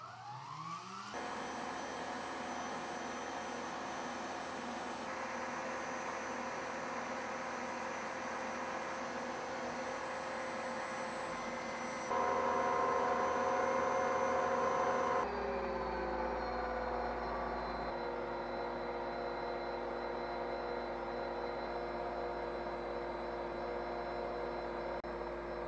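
BLACK+DECKER ice cream maker churning on its light ice cream setting, a steady close motor whine with broadband noise and a tonal hum, louder for a few seconds midway, then settling into a lower, smoother drone.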